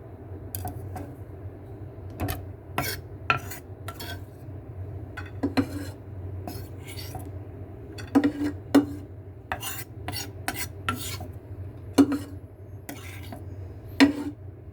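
Chopped garlic going into a frying pan, with repeated scraping and clinking of a utensil against the pan at an irregular rhythm over a low steady hum, close and fairly quiet.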